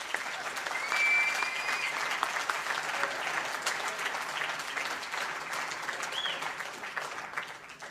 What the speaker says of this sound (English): I would like, from my heart, for people to give like a respect applaud to Gloria